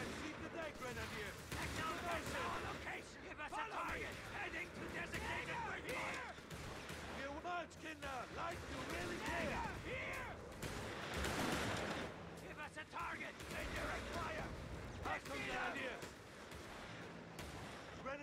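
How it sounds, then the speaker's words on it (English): Mortar rounds rain down in Company of Heroes 3, a dense battlefield din of continuous booms, crackling gunfire and impacts, with soldiers' voices shouting throughout the chaos. "Mortar rounds coming down."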